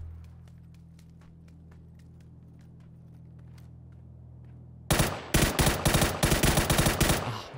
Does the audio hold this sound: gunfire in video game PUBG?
yes